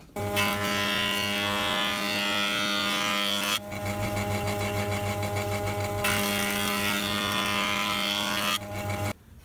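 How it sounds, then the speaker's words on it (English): A thicknesser planes a piece of beech in loud, close passes, a harsh whirring cutter roar that changes pitch as each board feeds through, with a steady motor hum underneath. "I can run that a couple of times through the thicknesser just to bring it down to the 20mm of the mahogany"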